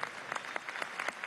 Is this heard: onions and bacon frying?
no